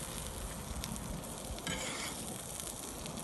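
Onions sizzling on a cedar wood plank over a barbecue grill, a steady close crackle and hiss with soft pops, constant throughout with no talking.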